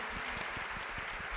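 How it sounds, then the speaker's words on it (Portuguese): Congress audience claps for the bishops in a continuous, dense wash of applause, steady and fairly faint throughout, with a faint voice underneath. "Vamos dar uma salva de palmas"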